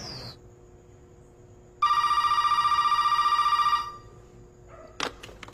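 A home landline telephone rings with a steady electronic bell tone for about two seconds, fairly clear and close, followed by a short handling clatter, with no talking.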